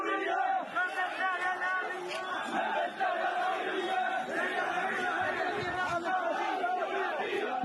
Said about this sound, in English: hundreds of Gazan civilians, actually thousands now, marched in a protest dubbed Intifada of the North, chanting to remove Hamas from leadership